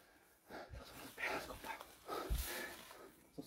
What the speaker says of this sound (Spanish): Mira, y los perros se están alborotando